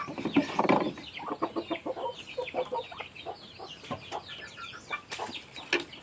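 Hens and chickens cluck on a farm in the Philippines, a steady run of short, close clucks and chatter with some louder bursts, and no speech over them.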